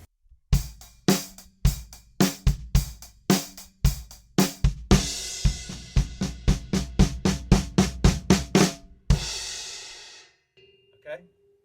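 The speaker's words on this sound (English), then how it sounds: "So I'll do 2 bars groove and then the build." A drum kit plays two bars of the groove with kick, snare and hi-hat, then a rapid floor tom and snare build-up climbs in volume into a ringing crash cymbal that decays, with no voices.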